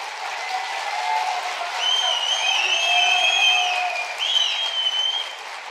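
A rally crowd at a CHP speech by Özgür Özel breaks into sustained, loud applause, with shouts and whistle-like cheers rising over the clapping.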